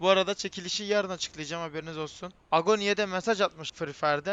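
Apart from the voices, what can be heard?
No everyday noises stand out.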